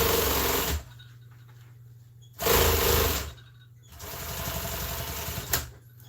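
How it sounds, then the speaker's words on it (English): A sewing machine stitches a seat cover in three separate runs: a short burst, a louder run lasting a second and a half, then a steadier, softer stretch, with quiet pauses between. "Easy peasy to sew them on."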